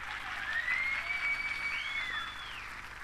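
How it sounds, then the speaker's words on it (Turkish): Audience applause for a folk dance team at a municipal disability event in Ereğli, a short burst of steady crowd clapping with a whistle-like tone sweeping over it. "Güçlü bir alkış istiyorum."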